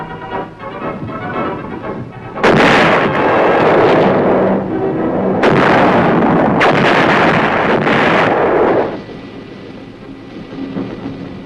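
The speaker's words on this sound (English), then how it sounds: "the 175s reliably deliver shells with pinpoint accuracy on targets over 10 miles away" 175 mm self-propelled guns firing artillery shells at the Aberdeen proving ground: a few heavy booming blasts, each followed by a long rolling rumble, loud and close, with no talk.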